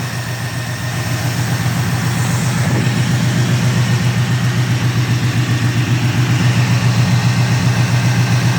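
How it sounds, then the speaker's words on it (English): A car engine idles steadily while warming up, with a header leak, a loud, even low rumble with a fast regular pulse running the whole time and no revving. "It's gonna be running all right. I'm not gonna rev it right away."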